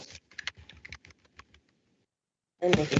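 Typing on a computer keyboard during a computing class: a quick run of close, crisp key clicks tapering off into a pause, then a louder burst of clattering near the end.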